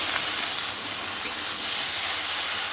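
Okra fries in a pan beside a simmering fish curry, giving a steady, fairly loud hiss throughout, with one brief sharper crackle and no voices.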